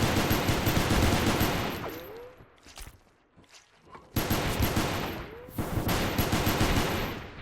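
Rapid automatic gunfire and pistol shots from a Space Station 14 round, dense loud bursts that fade into a brief lull near the middle before another heavy volley erupts.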